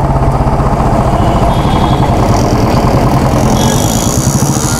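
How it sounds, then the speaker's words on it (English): A Royal Enfield Classic 350 motorcycle, a twelve-year-old bike on an empty road, idles loudly up close, its exhaust pulsing in a steady, even thump throughout. "I want to give you guys the exhaust note."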